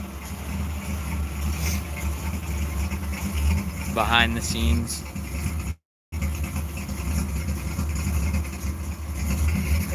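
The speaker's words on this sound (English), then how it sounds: "We're just waiting for Craig to pull his truck up." A truck's engine rumbles low and steady as it pulls up, continuous throughout with a brief dropout, while people talk nearby over it.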